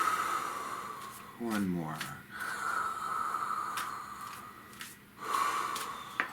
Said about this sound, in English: So once again, breathe.